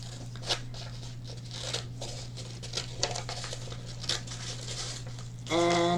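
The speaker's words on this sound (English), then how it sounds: "And then I'm going to take my child-friendly scissors again." Child-friendly scissors snip and crinkle around a paper circle for a puppy puppet craft, a run of small irregular cuts and paper rustles close up, ending in a brief tonal sound.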